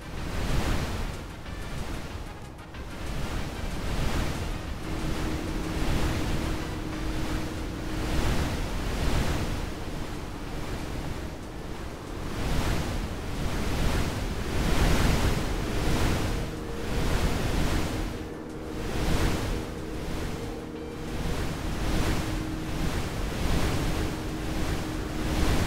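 Ocean waves in a Roblox game surge and wash in a steady, continuous roar, with rhythmic swells rising and falling over a broadband hiss and a faint low hum underneath; no voices are heard.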